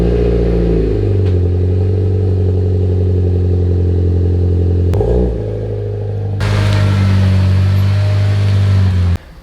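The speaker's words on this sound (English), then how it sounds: "Let's get a nice cold start for you." A Mitsubishi Lancer Evo fitted with a new Walbro 525 fuel pump cold starting, the starter catching into a loud steady idle with a brief blip and clatter, running close until it cuts off.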